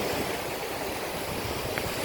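Ocean waves wash onto a hard-packed shell beach on Sanibel Island, Florida, a soft, continuous hiss of surf with low rumbling underneath, fairly faint and steady, no voices.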